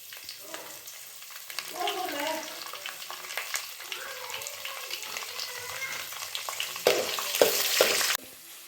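Curry leaves and chillies sizzle and crackle in hot oil for lemon puliyogare, with a steady frying hiss, occasional stirring clinks, and a louder burst of spattering near the end.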